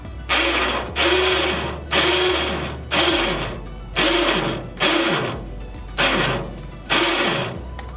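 An electric ATV winch motor whirs in eight regular pulses, each starting loud and winding down, with a low steady hum underneath throughout.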